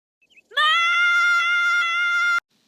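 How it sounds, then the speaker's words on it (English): A cartoon character's loud, sustained high-pitched scream, starting abruptly after a brief intake and holding steady for nearly two seconds before cutting off sharply. "Of course, Candace always loves to scream."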